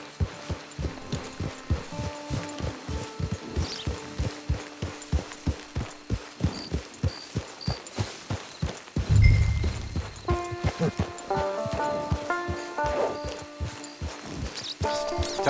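Horse hooves walk at a steady clip-clop across the ground in Red Dead Redemption 2 Online, close and regular, with game music and ambient tones underneath and a louder thump partway through.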